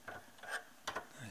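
An 11 mm socket on a ratchet clicks in a few short bursts while disconnecting shift cables from the shifter of a Lotus Elise, close and fairly quiet.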